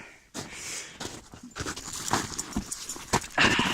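A dog named Stella pants and snorts close by outdoors in the woods near ice, quick rough breaths with rustling footsteps, moderately quiet with no talking.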